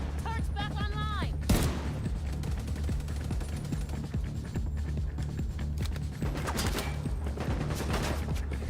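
Rapid bursts of automatic gunfire from a gun turret crackle through a noisy, chaotic scene, with a sharp loud crack early on and more rattling volleys later; voices and other sounds mix underneath.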